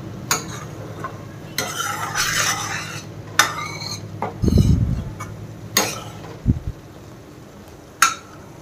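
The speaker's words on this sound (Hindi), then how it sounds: "आपको इसको अगर इस तरीके से चलाते रहेंगे ना तो कढ़ाई के बिल्कुल भी नहीं चिपकेगा।" Ghee being stirred from cream in a kadai, a scraping spoon working around the metal pan in repeated strokes with a soft sizzle beneath and a few sharper clanks, close and fairly loud, no talking.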